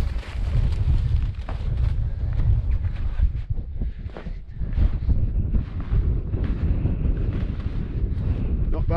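Strong wind roars on a snowy mountainside at about 3750 feet during blizzard conditions, gusting steadily and loudly around a pitched tent and buffeting the microphone with a deep, constant rumble.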